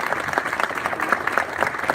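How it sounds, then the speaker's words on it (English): Audience applause at a ribbon cutting ceremony, dense clapping from a crowd with a few louder individual claps, steady and fairly close for a couple of seconds. "a special round of applause goes to you, Kirk"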